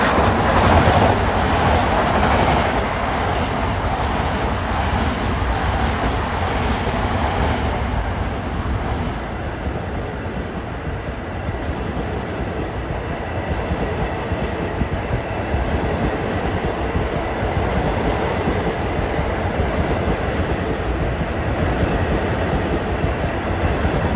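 Long Island Rail Road trains running side by side on triple track, including a westbound Ronkonkoma train, pass with a steady loud roar, rumbling wheels and rail clatter that holds for the whole stretch.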